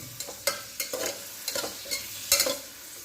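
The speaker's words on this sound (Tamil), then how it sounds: "வெங்காயம் நல்லா பொன்னிறமாக வரணும். அது வரைக்கும் நல்லா வதக்கிக்கலாம்." Sliced onions frying and being stirred in a pan for varagu (kodo millet) rice biryani, with a steady close sizzle broken by repeated scraping stirs of the spatula at an uneven rhythm.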